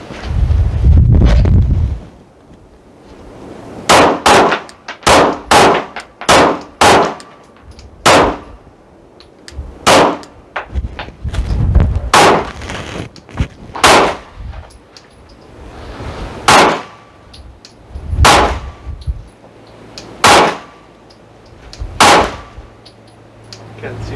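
Rifle gunshots fired while zeroing on a cold range in high winds, about a dozen sharp cracks at irregular intervals, loud and close, with heavy wind buffeting the microphone between shots.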